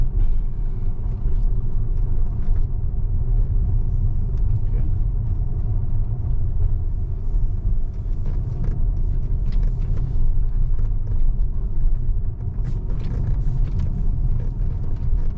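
A Tesla running FSD Beta 10.1 drives through a large turn, a steady low road rumble and tyre hum that is continuous and moderately loud, with no talk.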